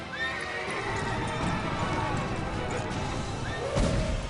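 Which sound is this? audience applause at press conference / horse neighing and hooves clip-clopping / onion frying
horse neighing and hooves clip-clopping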